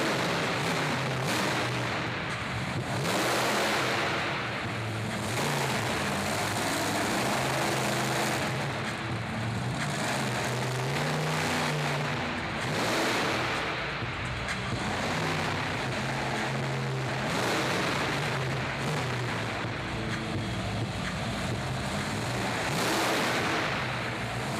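Monster truck engine roaring and revving at a 2017 Monster Truck Nationals show in Corbin, Kentucky, a loud continuous growl with repeated throttle swells over crowd and arena din.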